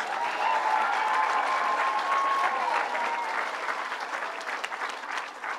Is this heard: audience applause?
yes